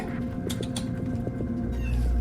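An orange tabby kitten trapped in a dark pipe gives a few faint, short meows that echo inside it, almost lost under a steady low rumble and background noise.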